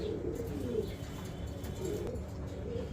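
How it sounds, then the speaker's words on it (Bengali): Round pigeons kept in a cage at a pigeon farm coo in soft, repeated low rolling calls, close but quiet, with faint rustling behind. "এখানে দেখতে পাচ্ছেন 2 জোড়া গোল্লা কবুতর"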